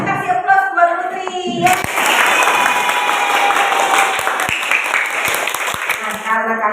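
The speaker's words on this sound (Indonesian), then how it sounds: "Ayo kasih aplaus buat Putri." A classroom of students breaks into clapping that holds steady for about five seconds after a teacher's voice, then tapers off as talking resumes.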